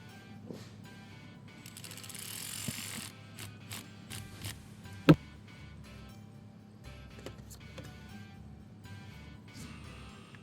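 A ratchet works a 10 mm battery terminal nut on a 2009 Jeep Grand Cherokee, faint scattered clicks and metallic knocks with one sharp clank midway, quiet and close.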